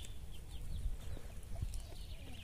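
Hen calling softly near her chicks in a farmyard of giant black and clown-face chickens, low clucks repeating irregularly over a steady rustling outdoor background, with faint bird calls mixed in.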